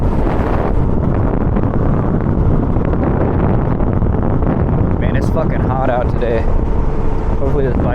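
Steady roar of a motorcycle ride on a hot day, wind buffeting the microphone loudly and continuously throughout, with a faint engine drone beneath and a few brief higher whines near the end.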